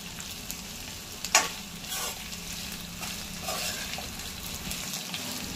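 Potato pieces fry in ghee for sabudana khichdi, a steady soft sizzle with occasional stirring scrapes and a brief clatter near the start, heard close and alone.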